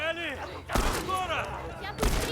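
Gunfire in The Last of Us, with two sharp loud shot bursts, each followed by a short tail, between stretches of tonal game sound and voice-like harmonics.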